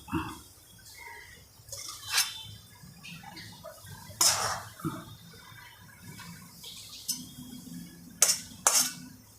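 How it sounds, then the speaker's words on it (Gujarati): Coconut ladoo mixture scraped from a pan onto a plate, heard as scattered metallic scrapes and a few sharp clinks of a spoon against steel over quiet gaps, close by with no voices. "હવે આપણે થાળીમાં કાઢી લઈશું"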